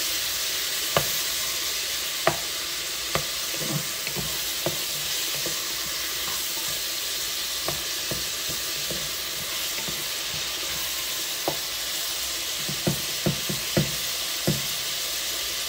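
Tomatoes and small fish frying in a pan: loud, steady sizzle throughout, with scattered clinks and scrapes of a utensil stirring, close and without talk.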